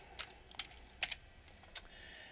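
A few sparse, separate clicks of keys on a computer keyboard while logging into an account, quiet and close, with pauses between presses and no talk.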